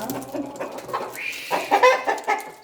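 Several Australorp chickens cluck close by in short, uneven bursts, with a rooster call mixed in, over faint background noise.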